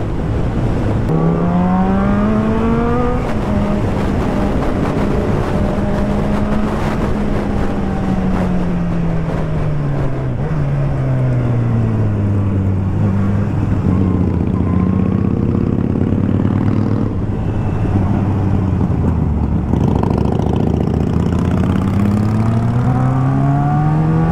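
Superbike engines from KTM, Kawasaki, Triumph and Harley-Davidson machines drone loudly and continuously on a group ride. The pitch rises and falls as the riders accelerate and shift gears.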